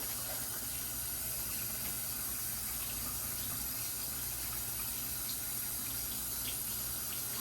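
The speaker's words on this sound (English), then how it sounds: "Let's rinse it first. And we'll rinse each piece also that we take off." A kitchen tap runs continuously over nappa cabbage being rinsed, giving a steady, even hiss of flowing water throughout with faint splashes and no talking.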